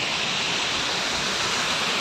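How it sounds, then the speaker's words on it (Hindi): Water pouring down from above in a waterfall at an outdoor spot in Arunachal Pradesh, a loud, steady broadband rush filling the whole two seconds with no talk. "देखिए पानी कितना अच्छा ऊपर से गिरता है"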